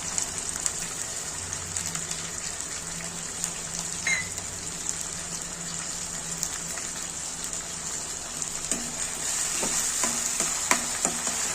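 Soaked chana dal and urad dal fry in oil after mustard and cumin seeds, a steady, close sizzle with scattered crackles and a few clinks of stirring toward the end, with no talking.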